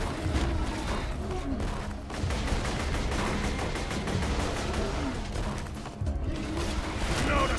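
Machine gun fire from Borderlands 2 rattles in a continuous, loud, dense barrage with crashes and mechanical clatter, and a voice talks over parts of it.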